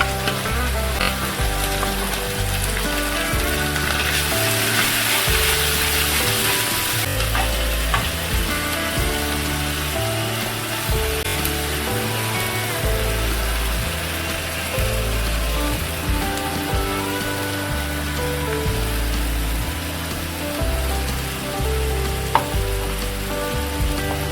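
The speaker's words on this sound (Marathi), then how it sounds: "वाटण पण आपलं चांगलं फ्राय करून घेऊया आपण" Ground coconut masala paste for a Malvani-style surmai fish curry fries steadily in a pan, a loud continuous sizzle with occasional stirring scrapes running throughout, no voices.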